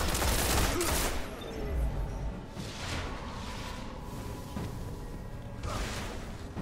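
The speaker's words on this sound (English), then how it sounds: "I'm using a shotgun to take them down now." Shotgun fire in the sci-fi shooter game Destiny: bursts of blasts and whooshing effects over a dense, busy battle soundscape, loud at the start and then continuing steadily.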